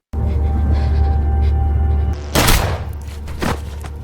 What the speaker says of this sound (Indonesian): Lisa secara mengejutkan menembak Tatiana